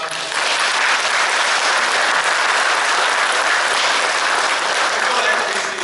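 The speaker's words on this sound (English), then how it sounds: "So let's give them a round of applause." A church congregation applauds long-time members, a steady, dense wash of clapping from many hands that runs loud and unbroken for about six seconds without pause.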